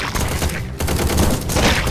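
Gunfire in the zombie video game Run! Zombie Foods crackles in a dense rapid burst, loud and continuous apart from a brief dip, with no speech over it.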